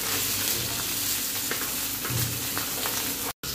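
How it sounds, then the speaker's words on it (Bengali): Pieces of rohu fish rubbed with turmeric and salt fry in hot oil, giving a loud, close, continuous sizzle with crackles and spatters, then a brief cut. "তেলে ভেজে নিচ্ছি।"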